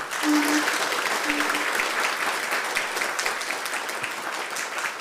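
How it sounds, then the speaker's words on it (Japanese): Applause for the speakers at the close of an opening talk at a Kumamoto city planning exhibition event, a full, even roar of many hands clapping steadily through the clip, with a brief sustained tone early on. "登壇者の皆様に大くな大きな拍手をお送りください"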